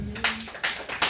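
Church congregation clapping in worship, a few rhythmic bursts of applause across a short span, fairly close and loud.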